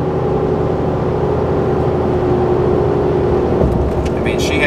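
Boosted car accelerating at light quarter throttle, a steady, loud engine and road drone building from inside the cabin with heavy tire noise, then a few brief clicks near the end.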